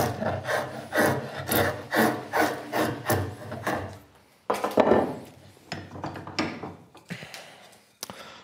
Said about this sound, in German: Jetzt habe ich mit dem Ziehmesser mal so die ganzen Kanten abgeflacht oder abgerundet hier.